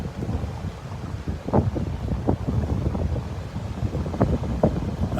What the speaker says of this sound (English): You can listen to the wind and the waves